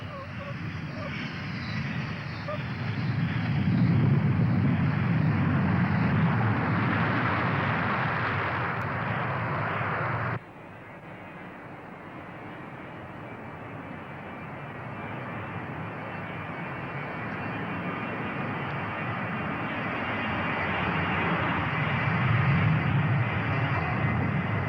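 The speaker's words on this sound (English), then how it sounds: "The 747 on this training flight is approaching and touching down without the pilot's guiding hand" A Boeing 747 on a training flight approaches and touches down on an automatic landing system, its jet engines a steady, loud roar throughout, with an abrupt shift in tone midway and a narrator talking over it.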